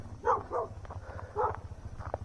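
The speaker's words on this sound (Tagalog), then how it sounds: "Aso." A dog barks several times in short, close bursts over a low steady engine hum, outdoors on a mountain road trip in Tanay, Rizal.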